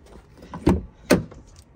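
A door on a 2019 Jaguar F-PACE is opened, giving two short, fairly close clunks spaced about half a second apart over a quiet background.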